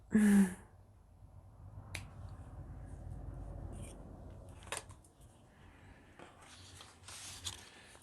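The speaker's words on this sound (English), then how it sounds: "Trim your excess. You can find your scissors that want, okay, let's go with the paper scissors." Paper scissors snip and trim excess paper while a handmade bat book journal is assembled, giving a few sharp, close cuts and light rustles spread across a quiet desk setting.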